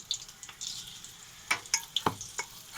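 Food frying in a pan, a steady soft sizzle broken by several close, sharp clinks and scrapes of a utensil against the pan as pieces are turned one by one.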